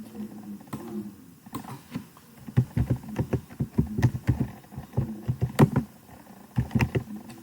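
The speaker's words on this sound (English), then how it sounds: "I'm going to type teacher's table" Keys on a computer keyboard are tapped in an irregular run of soft clicks and clacks, close and moderately quiet over a low background hum, with no talking.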